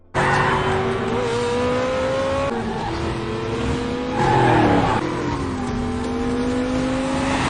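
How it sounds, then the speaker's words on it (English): An American sports car accelerates hard while chasing a Ferrari, its engine climbing in pitch through several gear changes with brief dips between them, loud and close, with no talk. "Driver hits the gas, his American sports car giving the Ferrari a run for its money."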